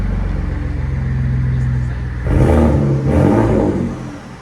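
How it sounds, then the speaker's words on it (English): A 2011 Ford F-150 EcoBoost with a Dynomax Bullet exhaust idles with a low steady drone, then revs twice in quick succession, each rise bringing a brief whooshing turbo spool before settling back. "You can hear the turbo spool."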